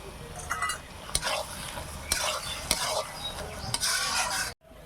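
Tomato dropped into a sizzling pan and stirred, with a frying hiss under repeated sharp scrapes and clinks of a utensil against the pan, ending abruptly.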